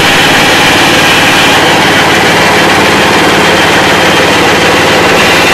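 An engine drives a wood-grass pellet mill, producing a loud, continuous close-up drone with steady mechanical vibration and no break throughout.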